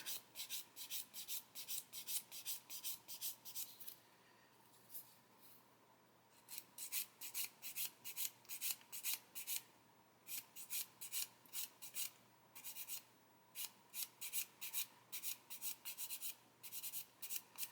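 A fine sander rubs a plastic part for a Takom/Meng Willys Jeep scale model in close, rhythmic rasping strokes, stopping briefly between bursts.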